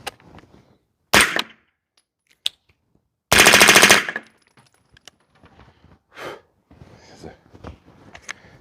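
Two loud, close bursts of rapid 9mm fire through an Angstadt Vanquish integral suppressor, the second longer and denser, followed by faint clicks, handling noises and quiet talk.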